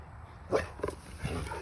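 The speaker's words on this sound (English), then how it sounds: "This guy's dog just attacked me." Dogs bark in short bursts at close range during an attack on a man who was fixing a fence, three or four sharp yelps spread over a second and a half with no talk.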